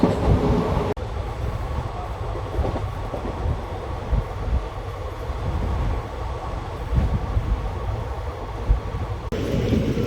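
Garudadri Express passenger train running from Tirupati toward Chennai, heard from inside a coach as a steady loud rumble and rattle with faint clickety-clack, continuous throughout with no talking.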